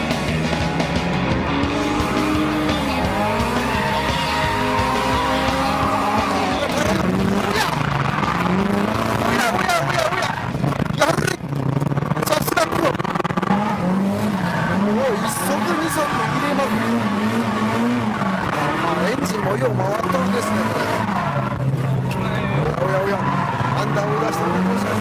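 An Italian car chases another car along a bumpy Japanese mountain pass road, engine loud and revving with tire noise throughout, under steady talk.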